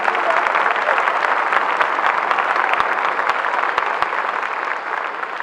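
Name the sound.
congregation applause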